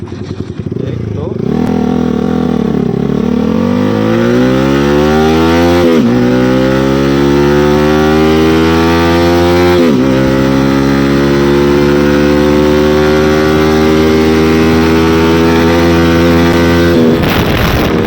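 A Yamaha R15M motorcycle fitted with a Valvetronic exhaust accelerates hard from a standstill through several gears. Each pitch climb is cut by a gear change, and the loud, close engine note runs continuously throughout.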